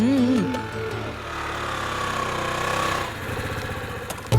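A motorbike engine arriving revs and drones steadily for several seconds, rumbling and rattling close by, then trails off slightly near the end.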